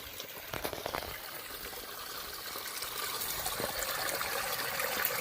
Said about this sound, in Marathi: मस्त पाणी वाहत आहे